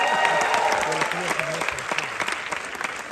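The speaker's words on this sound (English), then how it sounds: "congratulations on getting the biggest applause break of my set" Loud audience applause rolls through a comedy show in Saudi Arabia, sustained and crowded at first and then thinning out, with someone speaking over the final part.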